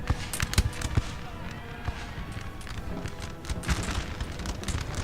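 Troops fire musket volleys on a Napoleonic battlefield in Napoleon Total War, with scattered sharp cracks and pops spread across the clip. Someone talks over the gunfire.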